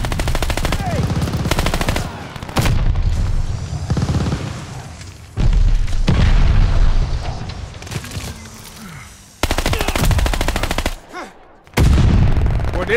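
Automatic gunfire and explosions in a multiplayer shooter video game come in loud, dense bursts of rapid shots, separated by short quieter gaps, with faint voices in the background.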